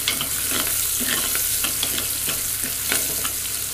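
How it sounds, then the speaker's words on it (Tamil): Small native onions and garlic sautéing in a pan for a Tirunelveli-style sundakkai vathal kuzhambu, giving a steady close sizzle with repeated scraping stir strokes and no talking. "நல்லா இந்த வெங்காயம் பொன்னிறமாக வதங்கட்டும்."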